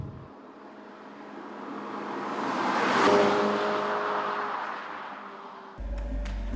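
A Hyundai i30 Fastback N approaches along a road and sweeps past, its engine and tyre noise swelling to a loud peak before fading away, then a different low rumble cuts in.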